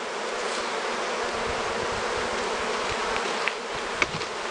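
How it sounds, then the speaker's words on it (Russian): Honeybees buzzing while being moved into fresh hives: a dense, steady swarm hum close to the listener, with a few sharper buzzes and faint clicks near the end. "Вот и все последние пчелки."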